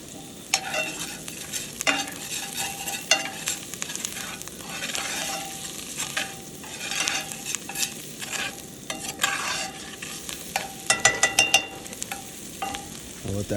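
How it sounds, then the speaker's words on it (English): Garlic and onions sauté in a pot for a camp-cooked Guinness beef stew, giving a steady sizzle broken by frequent sharp scrapes and clicks of stirring that cluster near the end. "all that garlic got in there. I'm going to saute that up for about a minute."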